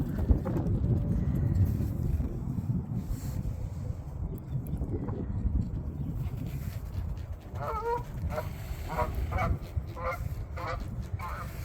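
Geese honking outdoors near ducks, several short nasal honks in a loose series over a steady wind-like background rumble, moderately distant.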